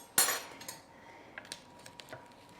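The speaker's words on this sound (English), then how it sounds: "I'm going to go ahead with my knife. I'm going to cut a small piece" A knife cuts a slice of quiche in its baking pan: a sharp metallic clink opens, followed by several light taps and scrapes against the pan.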